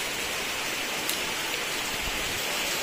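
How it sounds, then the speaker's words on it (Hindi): Heavy rain pours down steadily near a dam, a dense continuous hiss of drops striking surfaces, close and unbroken with no voices. "बरसात देखो कितना तेज हो रहा है"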